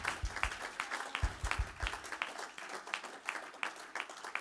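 A church congregation applauds a visiting pastor, many hands clapping together in a steady, irregular patter that stays fairly even in loudness throughout, with a faint voice underneath.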